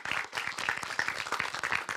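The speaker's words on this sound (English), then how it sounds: "Round of applause." Audience applause for a hackathon team at the MXM Hack-AI-thon event: dense, steady clapping from a crowd that fills the whole stretch without pause.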